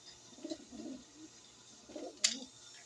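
A pigeon coos softly at a loft in a couple of low, close murmuring bursts, followed by a brief sharp rustle or flap in an otherwise quiet space.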